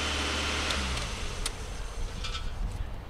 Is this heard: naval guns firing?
no